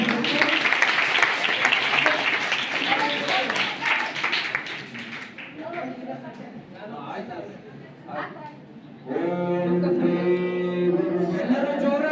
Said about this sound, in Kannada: ಪರಿವಾರಕ್ಕೆಲ್ಲರೂ ಚಪ್ಪಾಳೆ ತಟ್ಟಿ ಅಭಿನಂದಿಸಬೇಕು